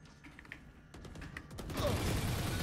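A door closing in the tactical shooter Valorant, heard as a mechanical creaking, ratcheting sweep that builds and grows louder near the end, preceded by scattered clicks and footsteps during a match.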